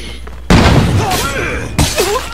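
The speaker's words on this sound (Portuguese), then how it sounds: "agora deixa eu usar esse outro aqui, que é o fogo de artifício explosivo" An explosive firework goes off in the State of Decay 2 video game, opening with a loud burst followed by whistling crackles and a second pop, with someone talking over it.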